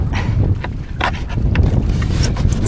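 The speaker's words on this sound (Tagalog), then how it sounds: "Pala ay mahangin dito." Strong wind buffets over rough open sea at night from a small fishing boat, a loud, gusty rush with low rumbling and intermittent splashing bursts, no speech.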